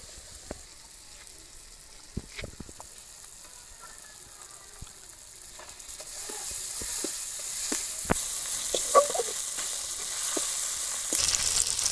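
Tomato and ginger paste fries in a pan for an egg curry, starting as a soft sizzle with scattered spatters and taps, then swelling into a louder, continuous frying hiss.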